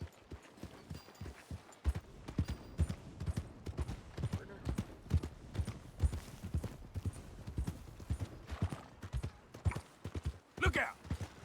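A horse's hooves clip-clop steadily in Red Dead Redemption 2, a quick even rhythm of close, crisp hoofbeats on the ground, with faint ambient sounds around them.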